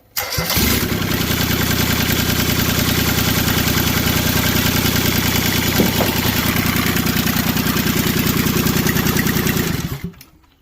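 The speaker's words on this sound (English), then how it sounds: "The John Deere 420 diesel." A Kubota D600 three-cylinder diesel swapped into a John Deere 420 tractor starts and runs at a steady, loud, close chugging idle for about ten seconds, then cuts off abruptly.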